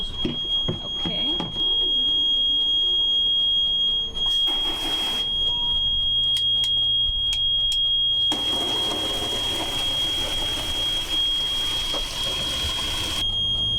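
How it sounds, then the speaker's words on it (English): Continuous high-pitched beeping alarm on a sailboat during engine work, a steady piercing tone sounding throughout, layered with intermittent clanks and bursts of hiss from the work around it. "Go deaf from the beeping."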